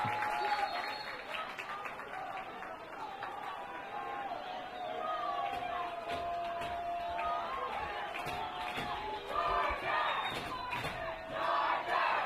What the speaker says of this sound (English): Corner Canyon fans trying to make noise, cheer on the Chargers.